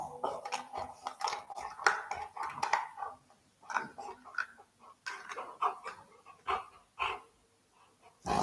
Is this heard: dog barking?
yes